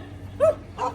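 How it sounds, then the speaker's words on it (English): Street dogs on an island beach give two short barks in quick succession, moderately near and fairly soft, over faint background ambience. "Listen to the music of the dogs?"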